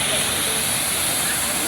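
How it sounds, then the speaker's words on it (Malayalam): Thumanam waterfall in full force after heavy rain, a dense, continuous roar of rushing water close by, steady and loud with no breaks. "അത്യാവശ്യം നല്ല ഫോഴ്സ് ഉണ്ട് വെള്ളച്ചാട്ടത്തിൽ കേട്ടോ"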